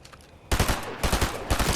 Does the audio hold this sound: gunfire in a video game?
yes